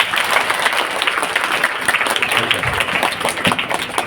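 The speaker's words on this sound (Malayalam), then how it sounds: "അപ്പൊ ഒന്നുകൂടെ കൈയടിക്കാം" A live audience claps together in a hall, a dense, steady wash of applause lasting several seconds, with a low murmur of voices beneath.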